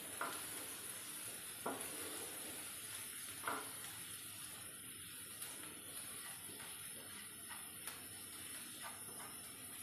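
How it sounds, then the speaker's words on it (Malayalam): Spice powder sautéing in a pan for beef egg bhurji, a faint, steady sizzle with occasional soft clinks and scrapes of stirring, no talk. "ഇനി നമ്മൾ ഈ പൊടിയൂടെ ചേർത്തിട്ട് നന്നായിട്ടൊന്നുകൂടെ ഒന്ന് വഴറ്റിയെടുക്കും"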